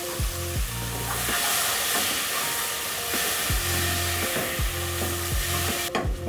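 Two tomatoes tipped into hot oil in a pot with fatty beef for stew, hissing in a loud, steady sizzle, with a few soft clunks and low bumps from the pot throughout.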